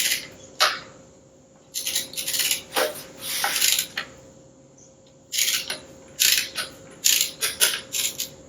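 A torque wrench tightens bolts to 69 inch-pounds while prepping a Lexus ES300 engine, giving bursts of quick metallic ratcheting clicks in short runs separated by pauses, close and fairly loud over a faint steady hum.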